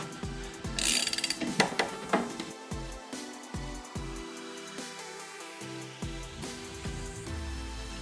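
A socket wrench ratchets while torquing the blade bolt on a Honda HRX lawn mower, giving repeated quick clicking bursts in short strokes with pauses between them, close and fairly clear.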